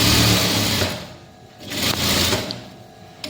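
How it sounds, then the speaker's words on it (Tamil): A sewing machine stitches piping onto a blouse lining in two close, loud runs of rapid whirring needle strokes, with a short pause between them and a small click at the end. "முதல்ல லைனிங்கில் பைப்பிங் வச்சு தைக்க போகிறோம்."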